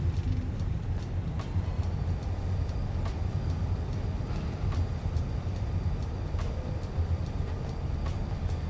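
Thrust reversers roar on an Airbus A320 in the FENIX flight simulator just after touchdown, a steady, dense low rumble running unbroken for several seconds with faint clicks and rattles on top and no talk.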